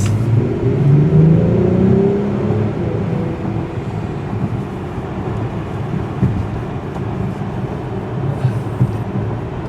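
A 2021 Acura TLX Type-S V6 engine accelerates with a low, smooth hum that swells at first and then settles into a steady drone, heard from inside the car.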